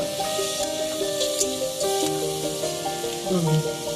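Pumpkin frying in a pan sizzles after water is poured in, a continuous crackling hiss with scraping stir sounds and a few clicks, up close, while a faint melodic tone plays underneath.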